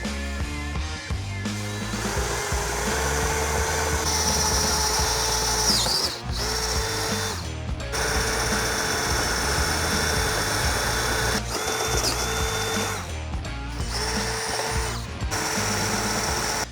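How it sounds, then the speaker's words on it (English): A power drill bores holes into the roof of a Subaru Crosstrek for a rack install, running loud and close in long whining bursts with brief pauses between holes, no voices. "Right now, we'll get drilling"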